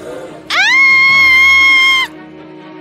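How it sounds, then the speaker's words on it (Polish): A loud, sustained scream rises sharply and holds steady for about a second and a half before cutting off, close and alone over a faint background. "Czemu krzyczysz?"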